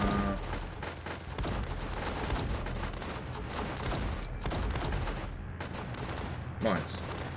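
Machine gunner units fire in a tower defense video game, producing dense, continuous rattling gunfire with scattered booms and thuds from battle effects, while a voice talks over it now and then.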